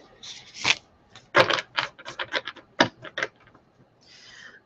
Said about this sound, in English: we'll do one more shuffle because that feels right